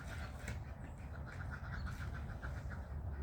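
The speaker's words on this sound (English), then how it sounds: "Those ducks are crazy." Ducks quack faintly and repeatedly in a quick, uneven series over a steady background hiss, sounding somewhat distant.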